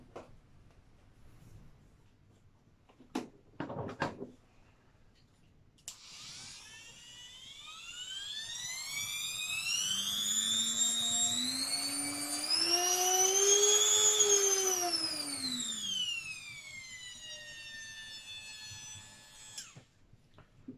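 A MaxExtra variable-speed power tool, a small-bit rotary or engraving-type machine with six speed settings, starts up after a couple of knocks, winds up to a high whine, rises in pitch, then slows and stops.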